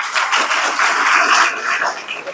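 An audience at an awards ceremony for talented students in Ayodhya breaks into steady applause, a close, dense patter of clapping lasting a couple of seconds.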